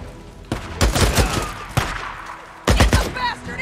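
Bursts of rapid gunfire in Days Gone, loud close volleys in three separate clusters with short pauses between, each crack sharp and sudden.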